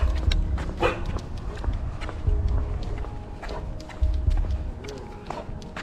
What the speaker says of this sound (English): But see, she's growling, all right?